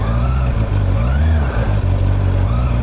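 A Honda CB650R with electronic E-Clutch pulls away from gravel, its engine a steady, loud, close drone with brief dips in pitch as it moves off, and no talk.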